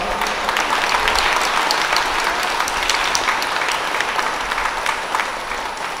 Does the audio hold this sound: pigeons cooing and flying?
no